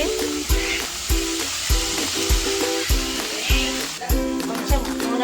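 A curry of onion and chana dal sizzles in hot oil in a pan, a steady loud frying hiss running throughout, with a rhythmic repeating pattern of clanks or stirring and background music or voices underneath.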